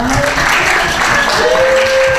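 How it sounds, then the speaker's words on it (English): Applause for a panel at a surf film festival in Honolulu, loud and continuous crowd clapping, close and dense, with a few faint voices mixed in. "Let's give a round of applause."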